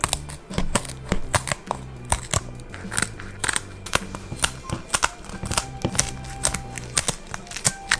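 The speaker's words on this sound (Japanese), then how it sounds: "ですき引きの邪魔になるヒレをハサミでチョッキチョッキ" Kitchen scissors snip the fins off a large 80 cm, 6 kg flounder, a fast irregular run of sharp crisp cuts and crunches, close and loud, with no one talking.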